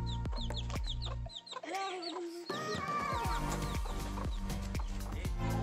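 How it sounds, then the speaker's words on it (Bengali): Chickens cluck in a village yard at a family home in winter. The calls come close and repeated over a steady outdoor background, with no clear talk. "আশমিরা এতক্ষণ মুরগির পিছনে দৌড়াদৌড়ি করলো, এখন ছাগল দেখতেছে।"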